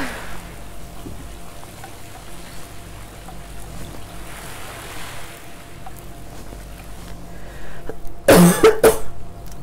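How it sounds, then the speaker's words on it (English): A person coughs in a short, loud burst near the end, over a quiet game backdrop of soft ambient music and faint wave-like noise. "I'm sorry about coughing"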